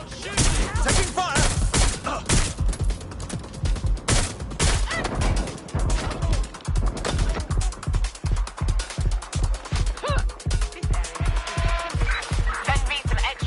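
Heavy gunfire in the video game Watch Dogs Legion rattles in close, loud, rapid repeated shots that settle into a steady rhythmic volley under occasional voices.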